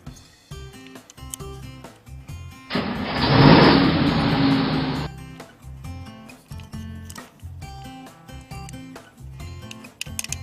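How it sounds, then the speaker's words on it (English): A truck engine revs up in a loud, rough burst lasting a couple of seconds, rising and then easing off, set against steady background music. "Green truck."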